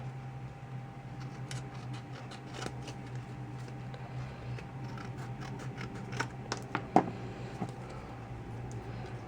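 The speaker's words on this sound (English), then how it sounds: "And we'll just trim off our edges." Scissors trimming the edges of stamped paper, a run of close, crisp snips and cuts that gets louder toward the end, with no talking.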